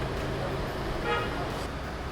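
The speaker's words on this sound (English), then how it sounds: "This is the daytime traffic." Busy daytime street traffic in Old Mardin, a steady wash of engine and road noise with a brief car horn toot near the middle, voices murmuring underneath.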